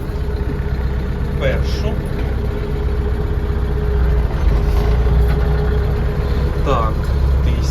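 Scout 404C mini tractor engine running steadily in a higher gear, a loud, low, continuous rumbling drone heard close by, with someone talking briefly over it.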